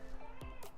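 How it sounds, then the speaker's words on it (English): A pet cat named Jenny lets out a brief, faint meow nearby in a kitchen during cupcake baking, a short rising-falling cry over a low background hum. "The cat's meowing at me."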